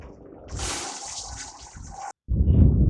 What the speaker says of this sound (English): This water coming out of this hose is pretty hot.